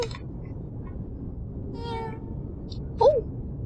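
A single short cat meow from a video game rings out near the end over quiet background hiss, with a few faint chimes earlier.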